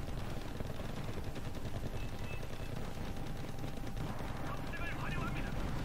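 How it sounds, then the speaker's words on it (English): Bombing enemy infantry in the Wargame: Red Dragon strategy game, a dense, continuous crackle of gunfire and explosions at a steady moderate level throughout. "Bomb those guys, please."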